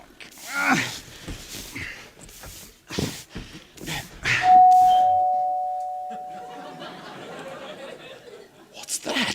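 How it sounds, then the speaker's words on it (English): A front doorbell rings on a stage during an amateur theatre performance of an Agatha Christie murder mystery, a sustained two-tone chime ringing out clearly and fading slowly after bursts of actors' talk. "It's the front doorbell."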